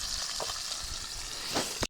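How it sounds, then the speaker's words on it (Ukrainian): Steady, close sizzling of fish frying in hot oil over a campfire by the Dniester river, with soft crackles and pops throughout. "А зараз ми смажимо рибу"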